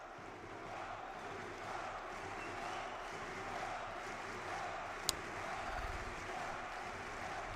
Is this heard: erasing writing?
no